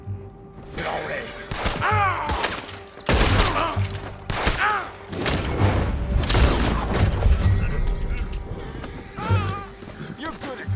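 Gunfire in Red Dead Redemption 2 during a wagon robbery: repeated booming shots in quick bursts, loud and close, mixed with shouting voices and other game sounds.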